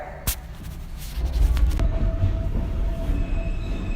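A New York City subway M local train runs through a tunnel with a heavy, rumbling roar, rattling wheels and a thin squeal, close and continuous.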